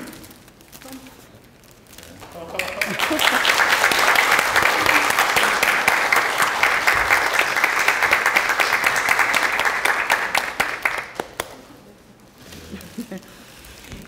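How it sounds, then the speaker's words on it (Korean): A lecture-forum audience bursts into loud, sustained applause to welcome a presidential candidate, swelling after a quiet start, holding for several seconds, then fading into murmuring. "여러분, 우리 이낙연 대통령 후보님을 큰 박수로 환영해 주시기 바랍니다."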